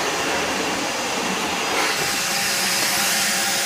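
Dyson DC17 upright vacuum cleaner running steadily at close range, a dense broadband whine and rush holding constant level throughout with no talk.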